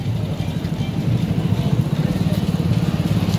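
A motorcycle engine chugs along at low speed with a steady pulsing throb, close and fairly loud, as the bike moves through a crowded evening fair with faint background bustle.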